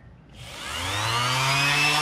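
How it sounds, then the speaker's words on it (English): A power sander works over a wooden birdhouse, its motor whine climbing in pitch as it spins up and holding steady, close and alone. "Now we're going to give it a really good sanding."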